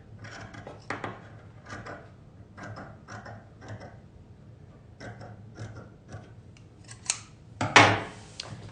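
Scissors trimming fabric for an embroidery stitchalong, with a series of close, crisp snips and small rubbing clicks spaced through a quiet room, one sharper cut near the end.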